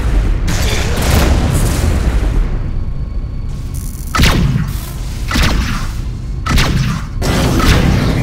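Heavy booming blasts from missiles hit a ship in space combat in Rebel Galaxy, several loud bursts in irregular succession with whooshing tails between them.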